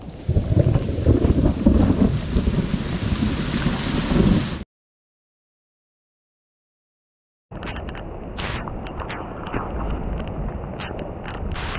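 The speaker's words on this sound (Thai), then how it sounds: "ฝนตกหนักมากบนดอยเนี่ย" Heavy rain in the mountains drums down in a steady, dense roar, stops abruptly into silence, then resumes just as strong with some sharp crackles.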